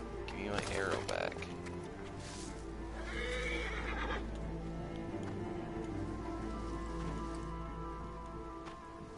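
A horse whinnies in the video game Assassin's Creed Origins, a loud neigh rising over hoof clops and rain-like ambience, with voices talking nearby.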